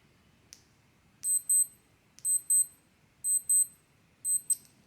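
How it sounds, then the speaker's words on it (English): A Casio G-Shock Mudmaster GWG-2000 digital watch alarm beeps in short, high-pitched bursts, four double-chirp groups evenly spaced, thin and moderately loud with no voices. "It's not the loudest alarm in the world."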